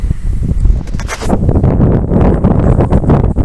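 Strong, steady wind buffeting the microphone with a constant low roar and rustling gusts, loud and close throughout.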